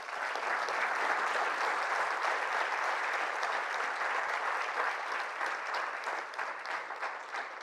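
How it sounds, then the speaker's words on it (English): Sustained, dense audience applause fills a hall after a closing keynote on mobile UX, steady and full for several seconds before tapering slightly toward the end. "And that's kind applause,"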